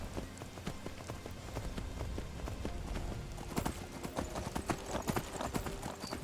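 Horse hooves clop steadily along a mountain path in Skyrim, a soft, moderately distant rhythmic patter running throughout under a faint ambient bed.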